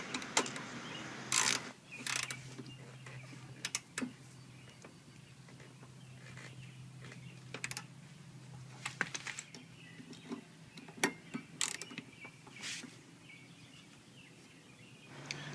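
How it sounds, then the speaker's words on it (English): A 12mm socket ratchet tightens the rear brake caliper bolt on a 2002 Honda Shadow Sabre 1100, giving bursts of close, rapid clicking with brief pauses between strokes and no talking. "we're going to go ahead and tighten it up with our 12mm socket here"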